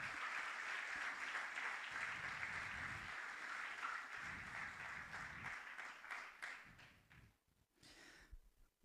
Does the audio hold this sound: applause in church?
yes